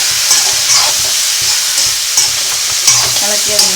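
A spoon stirring a frying mixture with turmeric powder in a hot pan, steady sizzling underneath with several scraping strokes recurring about every half second to second, close and fairly loud, no talk.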